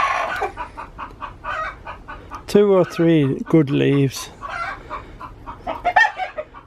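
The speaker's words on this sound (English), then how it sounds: "one of the hens have just come off the laying nest and telling everybody I've laid an egg" A hen just off the laying nest after laying an egg clucks loudly in a rapid burst of rising squawks, with someone talking quietly before and after.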